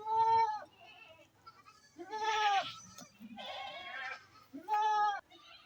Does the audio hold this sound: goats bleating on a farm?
yes